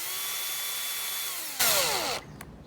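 Power drill driving screws into a door lock reinforcement plate: a steady whine winds down, then a short loud whirring burst with falling pitch as the screw tightens, followed by a faint click.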